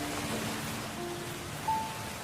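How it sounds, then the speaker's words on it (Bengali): Heavy rain pours steadily outside in a Bengali cartoon, a soft, even hiss that holds throughout with a brief faint tone near the end. "বাইরে পড়ছে ঝুম বৃষ্টি।"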